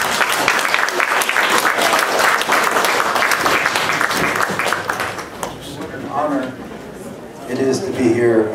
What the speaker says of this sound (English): Give them a large round of applause